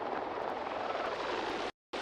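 Jet aircraft in the PUBG video game: a loud, steady broadband roar that holds without a break, cutting out briefly near the end before resuming. No one talks over it.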